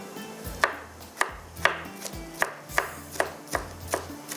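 Bell pepper (capsicum) finely chopped with a knife on a board, nine sharp evenly spaced chops at a brisk steady rhythm, close and clear, no talking.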